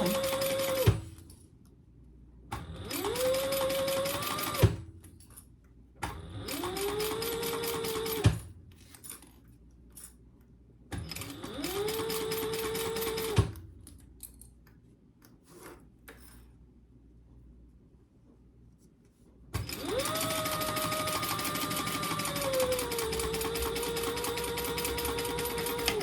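A sewing machine stitches a laptop bag in repeated bursts of rapid, whirring stitching separated by short pauses, each burst rising in pitch as it speeds up. The sound is close and clear, with no talking.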